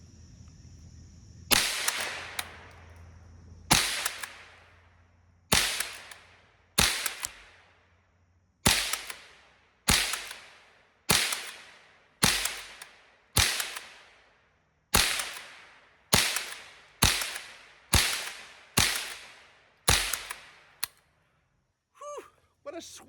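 A Browning BL-22 lever-action .22 rifle fires about fifteen sharp, loud shots in a steady, unhurried sequence, each crack decaying quickly, with quiet gaps for working the lever between rounds.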